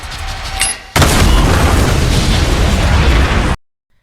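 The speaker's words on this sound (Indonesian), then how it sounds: "sempat menanam bom hingga terjadi ledakan besar" A huge bomb explosion in a film bursts in abruptly, followed by a loud, rolling roar of debris and rumble that cuts off sharply to silence.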